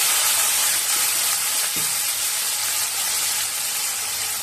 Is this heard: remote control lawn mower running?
no